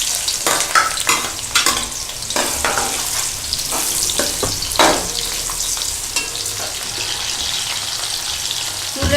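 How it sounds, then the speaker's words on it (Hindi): Onions browning in cooking oil for a pea and potato curry, a steady loud sizzle with repeated scraping stirs throughout, no talk. "और 1 पाव कुकिंग ऑयल में हम सबसे पहले इसमें प्याज डाल के ब्राउन करने के लिए रखेंगे।"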